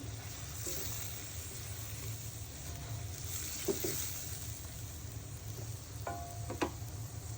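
Eggplant pieces fry quietly in a pan for a hilsa fish curry, a faint continuous sizzle with a few light clicks and scrapes of stirring scattered through it.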